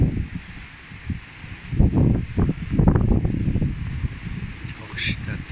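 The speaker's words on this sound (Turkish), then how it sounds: "Çok şiddetli rüzgar." Strong gusts of wind buffet the microphone on a stormy evening in Kaynarca, Pendik, Istanbul, rising in heavy low rumbling bursts and easing between them, with a voice faintly present.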